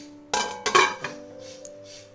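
A lid is set onto a pot of egg curry cooked with mustard and poppy seed paste, giving a few sharp metallic clanks and clinks close by, followed by a quieter faint clatter as it settles.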